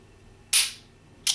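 A Taurus 856 revolver is dry-fired in double action, giving two sharp, close metallic clicks about three-quarters of a second apart, the first slightly louder, in an otherwise quiet room.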